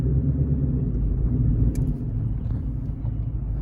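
Manual-transmission car engine idling and rumbling steadily up close as the clutch is worked, a low continuous drone with a slight dip in level midway, no voices.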